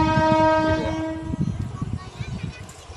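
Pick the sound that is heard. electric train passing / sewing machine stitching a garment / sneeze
electric train passing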